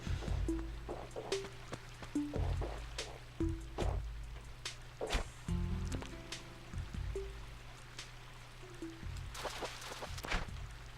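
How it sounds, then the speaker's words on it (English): Waterfall in Animal Crossing heard up close, a soft, continuous rushing of water with patters and trickles, joined by repeated footsteps and gentle tonal chimes. "Never realized how pretty the sound of that waterfall is when you stand right next to it."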